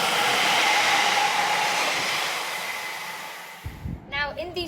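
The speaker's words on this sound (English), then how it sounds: "I'm going to let the train leave" A London Underground train rumbles with a broad, steady roar that gradually fades as it pulls away from the station, followed by a short stretch of distant voices.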